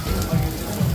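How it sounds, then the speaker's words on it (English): Heavy rain pours down in Koh Samui, Thailand, a steady close wash of drops with two brief swells in intensity, heard alone with no voices. "Then the rain got so heavy, I had to wait in the bar."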